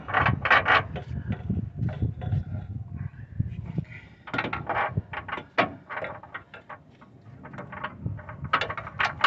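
A rack and pinion unit shifted into place under a 1999 Chevy Silverado 5.3, with close metallic clunks, scrapes and ratcheting creaks in irregular bursts and short pauses between movements.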